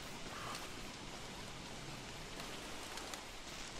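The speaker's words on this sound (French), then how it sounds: "Je vais pas mourir par la pluie quoi, arrêtez de déconner." Steady rain hisses evenly throughout, a dense broadband patter with no pauses and no voices, in the video game Don't Starve Together.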